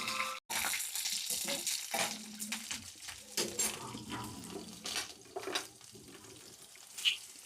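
Fenugreek seeds, urad dal and green chillies fry in a pan for a raw tamarind and fresh coconut chutney, giving a soft, continuous sizzle with intermittent scraping stir strokes, close and fairly quiet.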